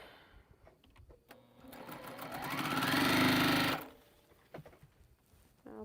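A sewing machine stitches quilt rows together in one steady, loud run of a couple of seconds that rises and then stops, with quieter handling sounds before and after.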